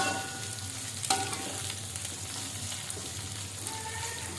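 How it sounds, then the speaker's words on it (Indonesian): Chili peppers sauté in a pan with a continuous close sizzle and frying crackle, broken by a brief stirring clatter, with no voices over it. "Ini juga cabainya kita tumis sampai cukup layu ya teman-teman."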